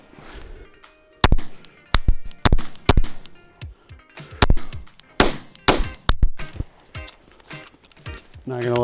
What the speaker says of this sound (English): Having never drawn out or shot from this thing or this pistol.